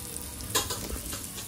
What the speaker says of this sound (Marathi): ते मच्छी फ्राय करत ठेवली आहे